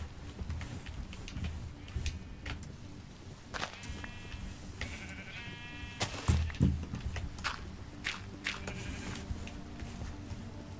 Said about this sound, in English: You can hear the sheep above.